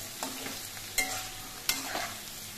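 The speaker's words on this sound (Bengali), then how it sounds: "আলুগুলো ভাজা হওয়ার সময় এর মধ্যে দিয়ে দিচ্ছি পরিমাণ মতো হলুদের গুঁড়ো" Potatoes sizzle steadily in oil in a pan while a spatula stirs them, with two sharp knocks of the utensil against the pan.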